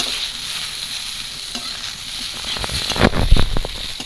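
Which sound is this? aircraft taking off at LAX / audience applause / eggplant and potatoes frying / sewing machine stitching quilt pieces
eggplant and potatoes frying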